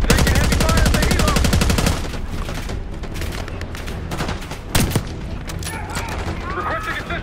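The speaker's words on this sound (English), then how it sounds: "We're taking heavy fire at the helo." Heavy automatic machine-gun fire in Call of Duty Black Ops 6, loud and sustained bursts at the start that give way to scattered shots and a sharp bang, with a voice speaking under the gunfire.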